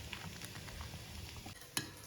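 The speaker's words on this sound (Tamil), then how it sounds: "கொஞ்சம் கொதிக்க விட்டு இறக்கிட வேண்டியதான்." A pot of kootu with coconut simmers on the stove, giving off a steady, close bubbling hiss with one brief clink near the end.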